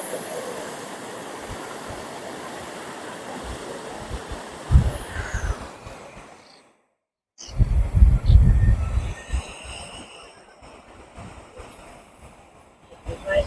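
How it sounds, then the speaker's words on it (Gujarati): Water from a waterfall beside Dantiwada dam rushes steadily as a broad, constant roar, briefly cut out before resuming louder, with intermittent thumps and occasional voices nearby. "પેલો ધોધ ચાલુ રહ્યો છે સાઈડમાં."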